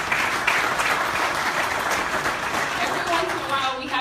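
Sustained audience applause fills a hall at a hospital foundation raffle event, steady and dense throughout, with a few voices faintly mixed into the clapping.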